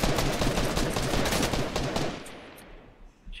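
Rapid gunfire in a battle royale video game, dense overlapping bursts of shots that stay loud for about two seconds, then thin out and fade, with one last isolated shot near the end.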